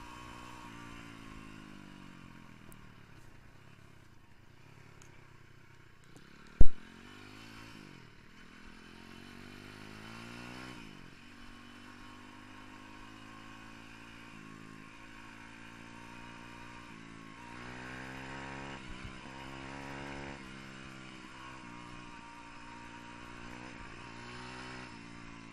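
A YCF dirt bike engine revs up and down repeatedly, rising and falling in pitch, with one sharp clack partway through and steady wind-like rumble beneath.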